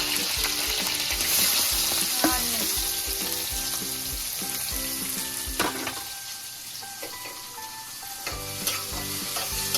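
Green chillies fry in a pan for egg curry, giving a loud, continuous sizzle with repeated clinks and scrapes of a stirring spoon against the pan, close up and with no voices.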